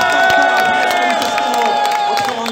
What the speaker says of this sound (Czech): Ještě jednou velký potlesk pro Ondru Paláta.